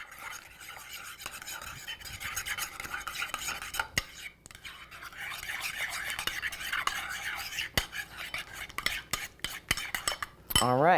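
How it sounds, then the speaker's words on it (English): A spoon stirs lime juice into a mixture for Mexican street corn, scraping and clinking steadily against the bowl, close and continuous, with a few sharper knocks near the end. "And we're gonna stir it up."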